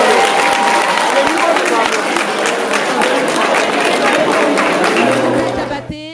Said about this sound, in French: Je vous demande donc de les applaudir afin qu'ils nous regagnent sur scène.